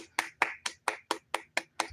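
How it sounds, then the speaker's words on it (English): One person claps by themselves, eight sharp, evenly spaced claps at a quick steady rhythm, close and clear with quiet gaps between them. "I had to give you a round of applause"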